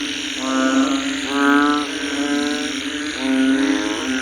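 Frogs croak at night in a steady, droning chorus, with repeated buzzing calls rising and falling over a constant background of night noise.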